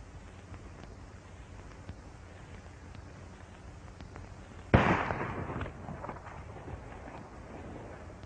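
A single loud gunshot cracks out in a 1939 western film shootout, followed by a fading rumble over a steady background hiss.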